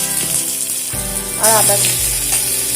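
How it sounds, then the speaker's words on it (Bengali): Chopped garlic and ginger fry in mustard oil with a bright crackling sizzle throughout, under music and a short spoken word. "আদা রসুনটাকে একটু হালকা ভেজে নেব।"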